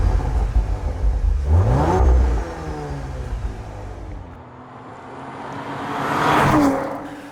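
A 2.9-litre V6 engine in an Audi RS4 Avant B9.5 revs up hard through an RS sport exhaust with a rising growl, drops back, then swells again in a second loud rev, throaty and close.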